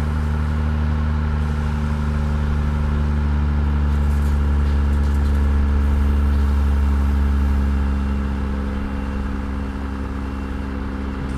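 A heavy Kenworth W900 truck engine in American Truck Simulator, a modded 300-horsepower engine, drones steadily at a low, constant pitch, loud and close, swelling slightly midway before settling back, with no voices.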